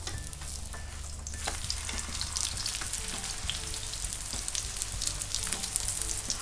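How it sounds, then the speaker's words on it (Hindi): A mooli paratha fries in desi ghee on a pan, giving a steady close sizzle and crackle with occasional small pops throughout. "देसी घी डाला है पराठे पर"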